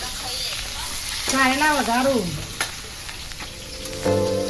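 Bitter gourd sizzles steadily in hot oil, with a brief murmur of voices and a couple of light clicks over the frying.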